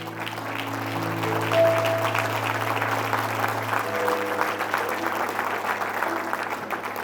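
A church congregation applauds during a worship service, a full, steady round of clapping from a crowd running throughout, with sustained musical tones underneath.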